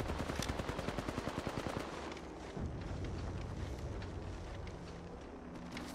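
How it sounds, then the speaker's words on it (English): Gunfire in a competitive video game match: a fast, evenly spaced automatic burst that gives way to a dense, continuous roar of shooting and blasts, loud and close with no voices over it. "Yeah, shoot them. We definitely want to shoot them."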